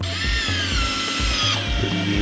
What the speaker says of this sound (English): Just using a drill to tighten up my hose clamps,